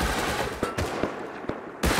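Rapid gunfire crackles in Rust, a loud, close burst of shots with several sharp individual reports over a dense rumbling background.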